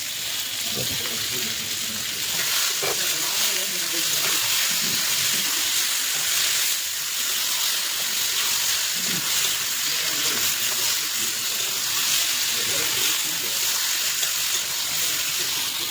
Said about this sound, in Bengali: আর আর মোটামুটি অল্প ভাজলে হবে